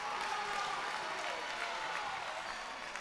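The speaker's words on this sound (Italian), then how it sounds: "Arrivano anche i primi applausi del Palatoliv per il proprio numero 10, per Guerini" Applause from the crowd at the Palatoliv futsal arena for home number 10 Guerini during a Serie A2 Élite match, a steady wash of clapping filling the hall with a faint voice beneath.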